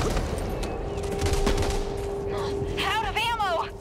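Sustained light machine gun fire from the co-op zombie shooter Back 4 Blood, dense and continuous at close range, with a voice shouting briefly over the top near the end.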